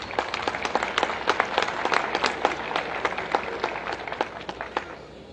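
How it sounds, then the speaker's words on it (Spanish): Steady audience applause at a school flag oath ceremony in Ambato, many hands clapping densely and evenly throughout, moderately loud with a slightly distant, roomy quality. "Aplausos, por favor."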